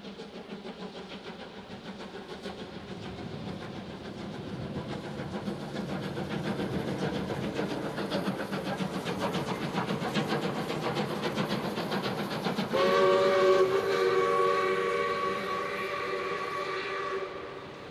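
South Australian steam locomotive 621 running on rails, a rising rumble of rolling wheels and rhythmic chuffing that builds as it nears, then a sustained whistle blast near the end, with no talk.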